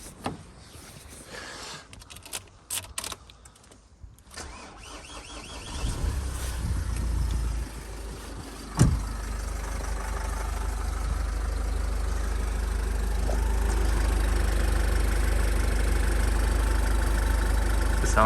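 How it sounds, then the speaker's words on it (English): A Nissan Qashqai (J10) engine cranks and catches, then settles into a steady, low idling rumble that continues to the end. "I can start the engine for you"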